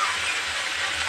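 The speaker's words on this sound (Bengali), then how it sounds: "এই যে কচু ডাঁটাগুলো এটাকে ছেড়ে দিলাম, সরাসরি তেলে ফেলে দিলাম" Soft taro stalks dropped straight into hot oil in a wok set off a loud, steady sizzling hiss that stays dense and even for the whole moment, close up and with no talking over it.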